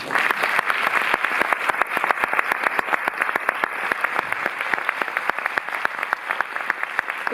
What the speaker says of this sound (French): je vous invite à applaudir Tia Janke.